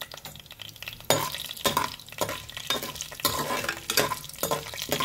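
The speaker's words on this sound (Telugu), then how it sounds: "మినపప్పు 1 స్పూన్. ఇప్పుడు ఇది బాగా ఫ్రై అవ్వాలి." Urad dal sizzling in hot oil in a pan with cumin, stirred with a spoon in loud repeated scraping bursts over a continuous frying hiss, close and without talk.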